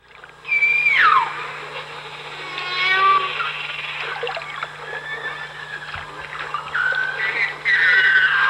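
Beluga whales in Saguenay National Park squeak, whistle and make meow-like calls, some sliding up and down in pitch, over a steady underwater hum.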